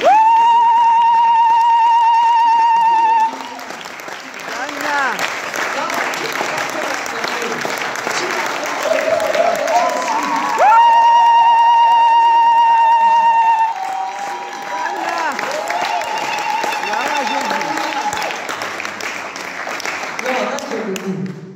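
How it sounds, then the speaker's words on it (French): A congregation at a women's church conference in Toulouse applauding and cheering, sustained dense clapping under loud sung or shouted voices with held tones, swelling and easing over the span. "Est-ce qu'on peut se lever et acclamer royalement le Seigneur de gloire?"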